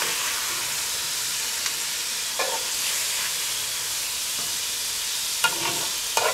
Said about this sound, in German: Dann brutzeln wir den Bacon und den Kartenschinken einmal an.